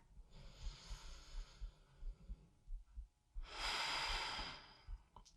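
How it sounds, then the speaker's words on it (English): Deep, slow breathing during a gentle seated chair workout, a long soft inhale or exhale followed by a louder, rushing breath, close and alone with no talking. "One last breath."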